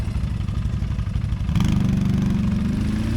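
A Loncin LX200ATV-U quad bike engine runs close by, a steady low-pitched idle that rises into a firmer, louder drone partway through as the throttle opens, with no talking.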